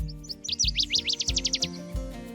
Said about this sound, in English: that's the northern water thrush